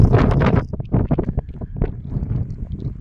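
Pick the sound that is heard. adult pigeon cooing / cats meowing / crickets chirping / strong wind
strong wind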